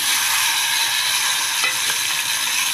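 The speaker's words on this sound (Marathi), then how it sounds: "आता याच्यात आपण कैऱ्या टाकून देऊ" Raw mango pieces hit hot oil with mustard seeds in a Maharashtrian methi amba pickle preparation, giving a steady broad sizzle with a few stirring scrapes and clinks, close and continuous with no talk.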